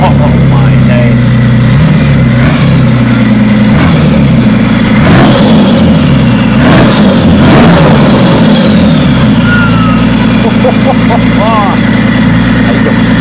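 A Guntherwerks Porsche engine starts up and revs, a loud, continuous, close mechanical roar with rising and falling revs, voices talking over it throughout.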